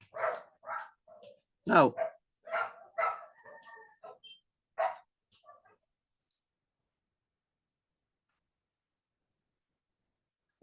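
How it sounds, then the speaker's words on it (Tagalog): Dogs fighting near a home during an online Sunday school session give out a burst of sharp barks and yelps over the first six seconds, then fall silent. "Ang ingay ng aso rito, nag-aaway."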